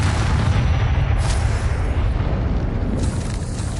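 Rumbling magical blast from the Confringo fire spell in the game Hogwarts Legacy, a dense, loud low boom that holds steady for several seconds with a brief brighter crackle midway, no voices.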